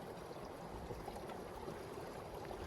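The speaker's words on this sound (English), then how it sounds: "There's a stream down there." A stream flows somewhere below, heard as a steady, faint, distant rush of water without any talk.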